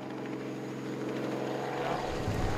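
A steady droning helicopter engine with a low rhythmic thrum, hovering at a moderate distance while herding antelope in Mozambique, continuous throughout with no talking.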